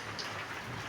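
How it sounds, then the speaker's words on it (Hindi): Heavy rain falls steadily outdoors, a dense, even hiss of drops pattering on surfaces at close range, with no voices over it for the whole short stretch. "तो इतनी बारिश आ गई आज बहुत ही ज़्यादा"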